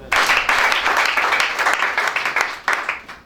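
A church congregation applauding for Jesus, many hands clapping loudly and close together in a dense burst, with a short fade and a renewed surge near the end.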